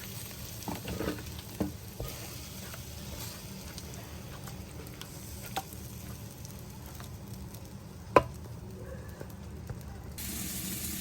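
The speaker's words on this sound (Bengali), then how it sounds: "ভালো করে কষিয়ে নেব মশলাটা" Masala with coriander and cumin powder sautéing in a pan, a soft steady sizzle broken by scattered spoon taps and scrapes, one sharper knock, and a brighter hiss swelling at the end.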